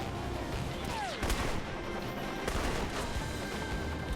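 Gunshots in the video game Alpha Protocol, a few scattered sharp cracks over a steady background of game ambience, moderately loud, with no talking.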